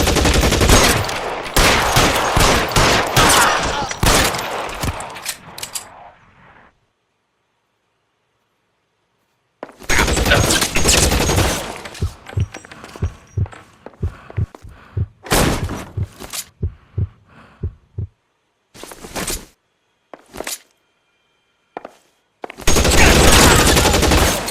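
Heavy gunfire in a street shootout from the video game L.A. Noire, loud bursts of rapid shots in dense volleys separated by short silent gaps, with scattered single cracks between the bursts.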